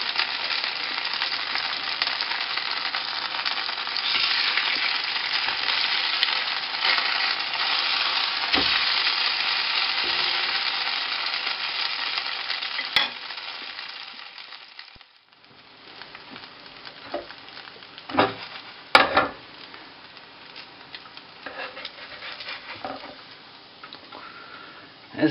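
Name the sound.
pumpkin sweet potato vegetarian schnitzel frying in pan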